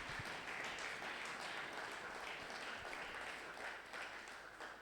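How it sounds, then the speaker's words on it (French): A church congregation at a Sunday praise and thanksgiving service applauds and cheers in a sustained, even wash of clapping that stays faint and roomy throughout, tapering slightly at the end. "Est-ce que tu peux encore acclamer très fort pour la gloire de Jésus?"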